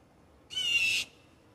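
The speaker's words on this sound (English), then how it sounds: "That's a raven." A wild raven gives a single harsh, raspy call lasting about half a second, clear and fairly close, against a quiet outdoor background.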